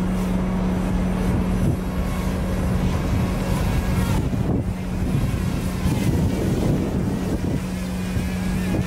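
Strong, steady wind roars and buffets the microphone continuously, with a low engine-like hum underneath and no voices.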